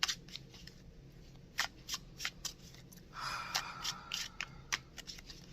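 Tarot cards shuffled by hand close up, a run of quick papery riffles and snaps, with a longer continuous flutter midway, no voices.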